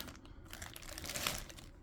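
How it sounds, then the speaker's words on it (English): Clear plastic bag holding a figure base crinkles and rustles as it is handled, close and quiet, in short irregular bursts with no talk. "Comes in a plastic bag."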